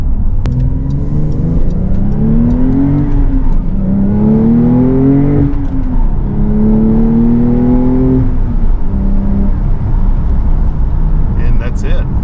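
A 2023 Porsche 911 Targa 4 GTS with a seven-speed manual gearbox is driven. The engine note climbs repeatedly through gears, with a drop at each shift, over constant loud road and cabin noise.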